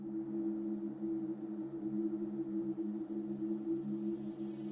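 A dark ambient pad from an electronic track, a low, steady drone that holds evenly throughout with a soft hiss above, no voices.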